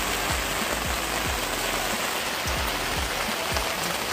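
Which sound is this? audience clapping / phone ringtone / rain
rain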